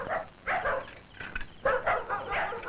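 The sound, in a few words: dogs barking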